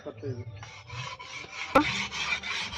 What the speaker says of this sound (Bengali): বটিতে ধার দেওয়া হচ্ছে